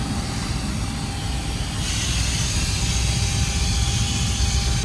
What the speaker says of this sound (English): this locomotive is diesel